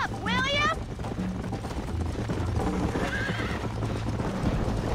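A horse in the video game Red Dead Redemption whinnies loudly at the start, then its hooves pound in a steady galloping clip-clop that continues through the rest, with game background noise underneath.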